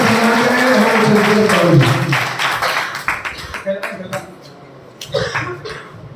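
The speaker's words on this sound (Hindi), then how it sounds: "इसी आशा के साथ सभी लोग तालियों से तालियों की आवाज के साथ" A bar association audience applauds at an Independence Day gathering, a dense wash of clapping that swells over the first seconds and then thins into scattered claps, with a voice speaking over it.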